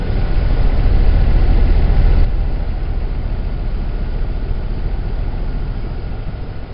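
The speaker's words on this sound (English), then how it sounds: "But let's see if we can hear that motor run." A Dodge car engine with performance upgrades runs steadily at idle, a loud, close, continuous low rumble that eases slightly after the first couple of seconds, with no talking.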